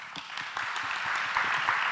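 A conference audience at a Singapore service-learning symposium plenary session applauds the panelists with a brief, moderately loud wash of clapping that swells slightly as it continues.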